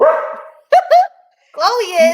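A dog named Chloe gives a few short, sharp barks and yips up close, loud and broken by brief gaps, while a person speaks around them.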